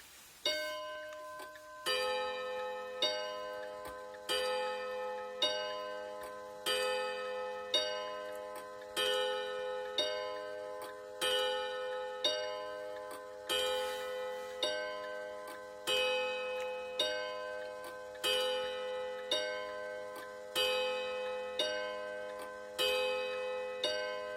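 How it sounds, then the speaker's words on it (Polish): A Metron clock ticks steadily while its gong strikes in a regular series of ringing, bell-like blows that decay between hits, close and fairly loud throughout, with no talking. "Naprawdę bardzo ładnie bije ten metron"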